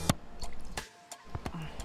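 Water splashes and drips as a face is washed, a few soft, close wet slaps and squishy drops scattered over a couple of seconds, faint and intermittent.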